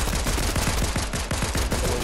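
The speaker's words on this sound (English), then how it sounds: "Oh, drum gun." Rapid automatic gunfire from a drum gun in the Fortnite video game, a dense unbroken burst of loud repeated shots lasting about two seconds with no talk over it.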